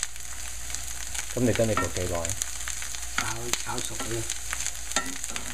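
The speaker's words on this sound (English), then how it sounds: "So there went the Chinese bacon and then the dried shrimp." Chinese bacon and dried shrimp fry in a pan for a daikon cake, giving a steady close sizzle with a few louder, tonal crackling bursts partway through.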